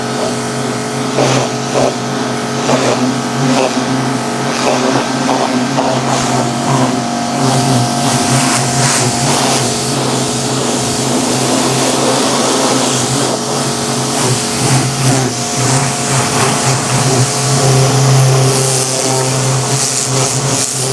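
A Kolner KHPW 2700IFR pressure washer runs steadily while spraying down a car outdoors, a loud continuous motor drone with hissing water spray that holds for the whole stretch, no talk.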